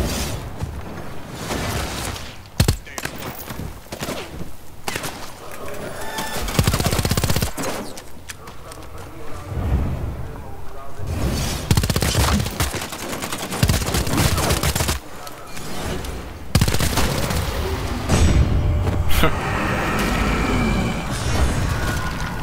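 Gunfire in the video game Bloodhunt: repeated loud bursts of automatic shooting and impacts spread across the stretch, with brief lulls and a player talking at times.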